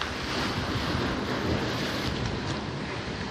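Sea waves surge and wash continuously around a fishing boat at sea, a dense, broad rushing noise mixed with wind buffeting the microphone, with no voices.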